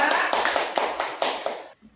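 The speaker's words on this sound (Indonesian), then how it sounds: "Kita kasih tepuk tangan untuk kelompok 2." Classroom applause for a student group, a burst of clapping from several people that stays steady and fairly close for under two seconds before stopping abruptly.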